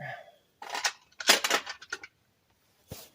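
Metal lug nuts for a 1998 Dodge Ram clink and rattle as they are scooped up and handled, a few close, sharp jangling bursts separated by short pauses.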